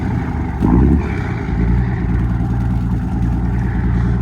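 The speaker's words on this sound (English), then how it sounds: "fantastic sound that you've just heard, everyone, is the sound of, yes, you probably guessed it, Ford Dorset" A 1980s Ford Dorset 2704ET, a six-litre, six-cylinder turbocharged and intercooled diesel built in the UK, idles with a steady, deep, loud rumble and a short swell early on.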